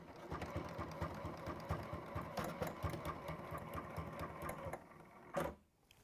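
Domestic sewing machine stitching steadily through fabric and paper, a close, loud rapid mechanical chatter running for about five seconds before stopping abruptly with a brief clunk.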